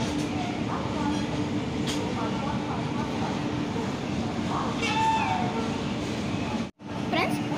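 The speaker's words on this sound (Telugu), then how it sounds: "బ్యూటిఫుల్ డీజిల్ ఒక గూడ్స్ని పుల్ చేసుకుంటూ వస్తుంది." A diesel locomotive hauling a goods train rolls in with a steady rumbling, clanking rail noise that runs throughout, with a short dropout near the end and faint voices in the background.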